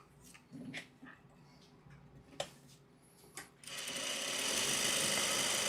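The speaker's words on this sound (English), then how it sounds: "I'm going to take this strip, sew it right there." A sewing machine stitching a fabric strip onto crumb quilt pieces starts partway through and runs as a steady, close mechanical whir, after soft handling noises and a dog's faint whimpers.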